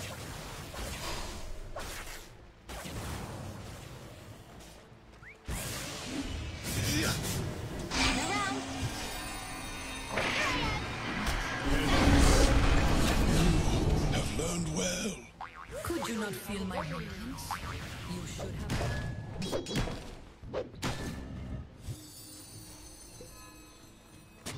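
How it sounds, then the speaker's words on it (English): A tower comes under attack in a Dota 2 match, with dense clashing, whooshing and springy combat effects that rise and fall in loudness over about 25 seconds, partly under a voice. "Dire's middle tower is under attack."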